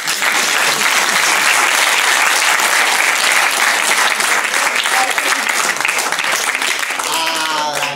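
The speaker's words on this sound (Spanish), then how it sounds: "Muchas gracias por los aplausos." Loud, dense applause from a circus crowd during a magician-clown act in El Porvenir, Trujillo, a steady roar of clapping that carries on throughout, with a voice coming in near the end.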